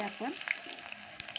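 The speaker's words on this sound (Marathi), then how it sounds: "कांदा लाल होईपर्यंत भाजायचा" Chopped onion frying in two spoons of hot oil in a pot for egg curry, a steady close sizzle with a brief stirring scrape, while a voice speaks briefly.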